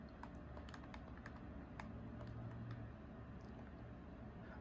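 Someone types Grubhub into a search field on a PS5: faint, scattered keystroke clicks tap along at an uneven pace over a low, steady background hum.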